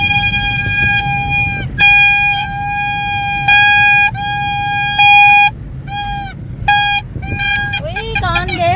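Toy horns blare at an Independence Day celebration, loud nasal honks repeated in a series of short and longer blasts close by, ending in a wavering toot, with some talk faint in the background.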